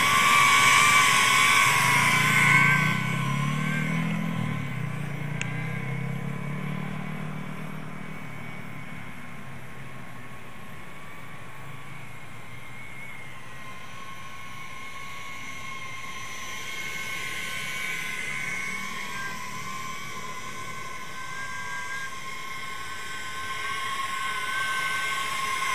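A Speedybee Bee35 drone, flying on optical flow without lidar, holds a steady high motor whine close by that fades slightly in the middle and swells again toward the end as it comes down to land.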